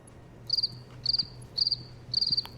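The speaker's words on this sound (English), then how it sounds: "I didn't know crickets lurked." Crickets chirp in the video game Satisfactory, four short trilled bursts of several pulses each, evenly spaced over a faint hum, clear and close with no talk.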